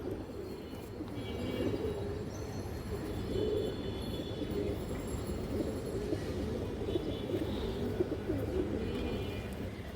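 Pigeons, high flyer and racing birds kept for sale, coo softly in a low continuous murmur, with faint chirps and background noise throughout.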